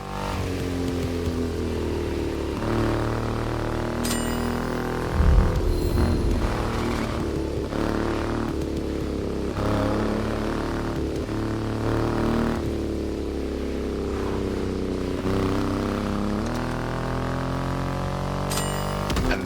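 A Triumph Rocket 3 motorcycle with a 2.5-litre engine in the racing game The Crew Motorfest rumbles and revs repeatedly, its engine note rising and falling through gear changes, loud and close throughout.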